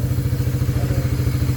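A freshly rebuilt stock motorcycle engine with a steel bore idles during break-in, a close, steady, rapid low thumping putter with light mechanical clatter.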